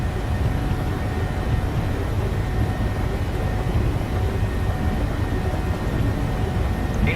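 Airliner jet engines spool up to takeoff thrust in Microsoft Flight Simulator 2020, a steady loud broadband roar and rumble that holds evenly throughout without speech.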